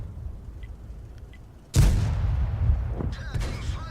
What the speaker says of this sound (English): Now it's shooting at the IS-6.